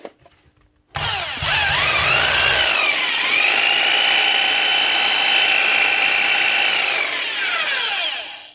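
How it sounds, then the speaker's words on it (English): A vintage Makita 4300 jigsaw in need of some work runs steadily up close, its loud buzzing blade motor rising in pitch after switch-on and holding a sustained whine for several seconds before beginning to wind down. "One original Makita jigsaw."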